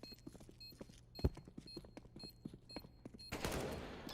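A single sharp, loud AWP sniper rifle shot rings out in a competitive Counter-Strike esports match, with faint game sounds such as footsteps and scattered shots around it and a burst of noise near the end.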